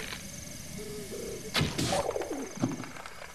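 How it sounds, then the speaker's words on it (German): A bird in The Legend of Zelda: Breath of the Wild gives soft cooing calls and a few quick chirps, close and clear over a steady ambient background, followed by a sharp swish and thud. "Und da ist ein Vogel."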